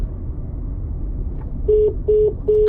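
Three short telephone dialing tones beep in an even sequence over a low rumble of background noise, clear and close after a quiet stretch.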